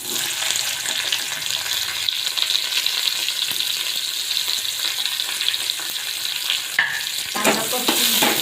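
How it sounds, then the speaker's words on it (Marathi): Onion sizzles steadily in hot oil in a wok, with a spatula scraping and stirring through it in a continuous close frying hiss and occasional clinks near the end. "कांदा परतून घेऊया"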